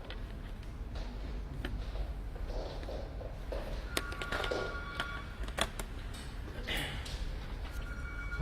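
A shop telephone rings in a laptop repair shop, where an HP Pavilion G4 is on the bench. Its electronic tones sound in two bursts, partly masked by steady room noise and the clatter of work.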